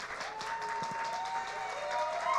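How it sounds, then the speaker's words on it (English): Applause from the audience at a magic night in Atlanta, a dense wash of many clapping hands at moderate level, with a faint tone running underneath. "So give him a big round of applause for that."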